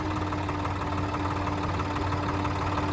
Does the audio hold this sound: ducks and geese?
no